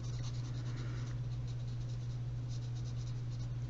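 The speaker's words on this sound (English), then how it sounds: "I'm just literally going in and just colouring. Just scribbling, colouring in." Pencil scribbling loosely back and forth to colour in a picture, a steady close scratchy rasp running throughout with a constant low hum underneath.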